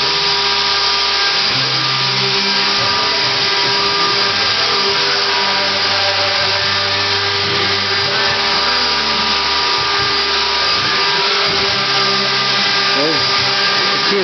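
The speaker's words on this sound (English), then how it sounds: "CNC machine." A CNC machine runs in a woodworking shop on a homemade CNC table, giving a loud, steady mechanical whine and drone with shifting motor tones for the whole stretch.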